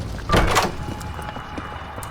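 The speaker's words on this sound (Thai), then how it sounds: "มาเร็ว ประตูนี้เปิดแล้ว ประตูนี้เปิดแล้ว" A door opens in the Roblox horror game DOORS with a single loud thud and creak, followed by quieter game ambience.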